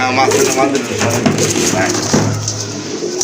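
Crested pigeons at a market stall coo in a steady low rumble close by, partly under loud continuous talk and background chatter.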